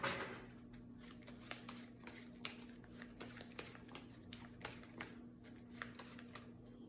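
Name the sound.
shuffling a deck of playing cards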